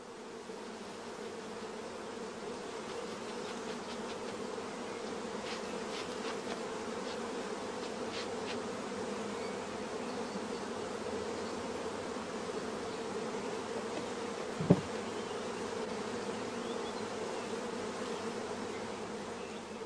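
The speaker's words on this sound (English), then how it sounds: "all the young bees run into the darkness of the swarm box" Honey bees swarming into a swarm box give off a continuous, close buzzing drone with a single sharp knock partway through.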